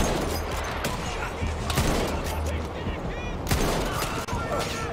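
Heavy automatic gunfire in a Battlefield match rattles continuously in loud bursts, with sharp cracks and distant booms layered through a chaotic battle soundscape.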